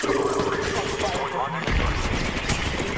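Gunfire in the mobile battle game Apex Legends Mobile rattles through a busy match, rapid shots layered with blasts and a crashing impact near the end, under steady in-game voices and effects.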